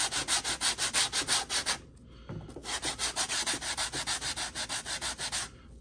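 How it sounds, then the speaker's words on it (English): Steady back-and-forth scraping of a sanding block rubbed against a Red Wing 1907 boot sole, rhythmic strokes with a brief pause in the middle, close and clear. "I'm going to use my little sanding block here."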